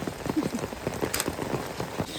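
Steady rain falls on a forest trekking trail at Konaje Kallu, a dense patter of drops on leaves and surfaces with no voices.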